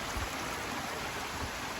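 Steady flowing water of a stream in a video game, a constant close rushing wash with no voices.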